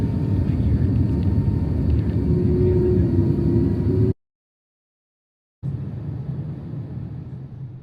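A steady low rumble fills the cabin of a Turkish Airlines airliner in flight, broken by a brief total dropout before the droning engine and air noise resume, with no voices.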